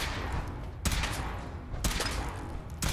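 Heavy gunfire in Fallout 4, three sharp booming shots spaced about a second apart, each loud and close with a fading tail over a dense, rumbling battle background.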